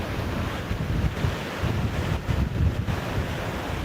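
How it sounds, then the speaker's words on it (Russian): Stormy Black Sea surf at a beach in Anapa, with big waves crashing and rolling in and strong wind buffeting the microphone in loud, continuous, surging gusts. "Привет, Саша, да, штормит. Ужасно. Волны дикие."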